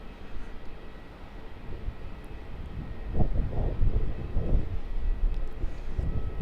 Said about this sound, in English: Triple 300ER there, heading off to Singapore as flight 228